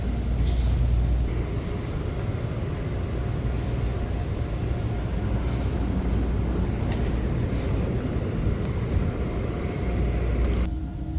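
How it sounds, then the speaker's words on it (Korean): A Chicago metro train bound for Forest Park waiting at a station platform, heard as a steady loud low rumble and hum of the idling train and station ambience that continues throughout, with no talk. "개찰구에 들어가니 열차가 벌써 와 있었다."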